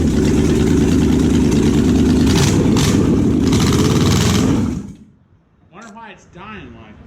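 An old engine with a loose ignition wire runs loud and rough close by for about five seconds, then cuts out abruptly and dies, leaving quiet speech afterward.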